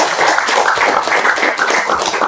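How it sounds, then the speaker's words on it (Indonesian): Steady, dense hand clapping from a group of volunteers at a community gathering in Air Bakoman, Tanggamus. Many hands beat together continuously and fairly loudly, with no voices standing out. "Tepuk tangan dulu."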